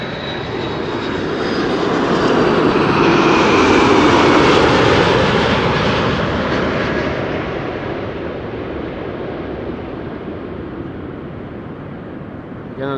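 A heavy wide-body airliner at Amsterdam Schiphol Airport passes with a powerful engine roar that builds over several seconds, peaks loud and nearby, then gradually recedes into a distant rumble.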